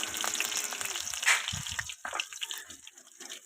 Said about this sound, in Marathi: तेल गरम झाल्यानंतर त्यामध्ये लसूण टाकून घ्यायचं आहे पहिल्यांदा.